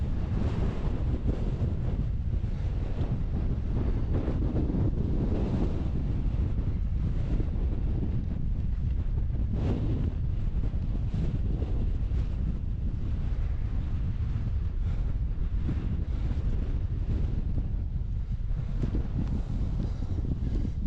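Strong wind buffeting the microphone outdoors while hiking in Norway, a loud, constant low roaring rumble with gusty swells lasting throughout, no voices.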